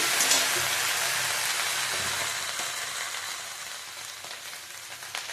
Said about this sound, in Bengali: নেড়ে চেড়ে একটু ভেজে নেবো।